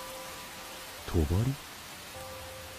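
Steady rain falls in an anime scene from SPYxFAMILY, a soft continuous hiss that carries throughout while a voice speaks briefly over it.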